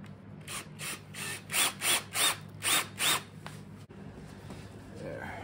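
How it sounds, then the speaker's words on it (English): A power drill whirs in about six short, regular bursts close by, then stops, leaving quiet rustling. "drill it"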